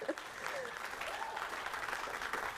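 Applause from the graduating class and guests at a Bethel College nursing pinning ceremony, a continuous patter of clapping at moderate distance with faint voices mixed in.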